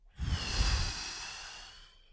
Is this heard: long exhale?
yes